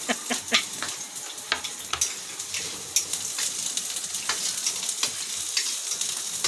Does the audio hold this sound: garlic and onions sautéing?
yes